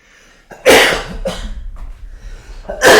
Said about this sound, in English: Let's sneeze now.